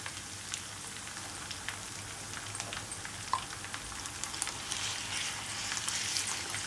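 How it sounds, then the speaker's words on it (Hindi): Minced meat (qeema) frying with fried garlic and ginger gives off a steady, fairly faint crackling sizzle, like light rain, with occasional louder pops and no voices. "लहसुन अदरक फ्राई हो चुका है, अब मैं इसके अंदर ये कीमा शामिल करती हूँ सारा।"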